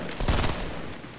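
Gunfire in Fortnite Battle Royale, a quick burst of rapid shots lasting about half a second, then fading into a softer rumble.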